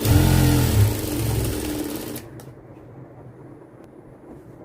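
A sewing machine stitches blouse lining fabric with a loud, fast mechanical whirr for about two seconds. It then stops abruptly, leaving only faint room noise.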